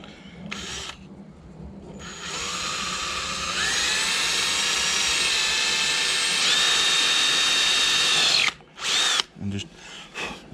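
A power drill bores at an angle into a wooden largemouth bass carving, hollowing the head and mouth; a steady high whine that rises in pitch and holds for several seconds before stopping, followed by brief short bursts.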